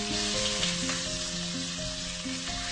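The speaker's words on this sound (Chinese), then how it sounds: "先放入已切碎的大蒜，炒一阵，之后加入柠檬草" Chopped garlic and lemongrass stir-frying in a pan for a Malaysian assam fried fish dish, a steady close sizzle throughout with soft background music and no talking.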